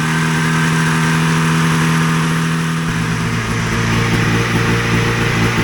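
A hovercraft's new motor starts and runs, loud and close, with a steady droning hum that shifts pitch and rougher texture partway through.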